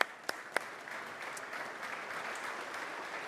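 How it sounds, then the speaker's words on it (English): Applause from an audience at a horse racing post position draw, opening with a couple of sharp close claps before settling into a steady, moderate wash of clapping. "How about a big round of applause?"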